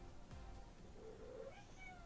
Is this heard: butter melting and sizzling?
no